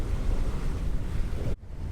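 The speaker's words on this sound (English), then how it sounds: "the wind had a chance to kind of build some fetch in the waves" Wind roars and sea waves wash steadily around a sailboat on open water at sea, a loud broadband rush with microphone buffeting that cuts off abruptly near the end.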